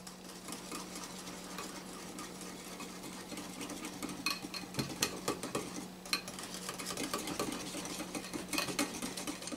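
A spoon stirring horseradish sauce with ketchup and Worcestershire in a bowl, close irregular scraping and clinking strokes that grow busier toward the end, alone without talk over a steady low hum.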